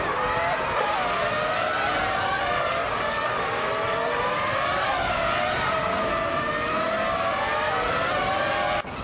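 Race car engines in a racing video game, a Prosta P01 among the field, drone steadily and loudly throughout, layered whines rising and falling as cars jostle together, with no talking.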